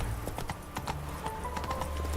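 Roach, a horse in The Witcher 3, gallops with a quick, steady run of hoofbeats that stay close and even from start to finish.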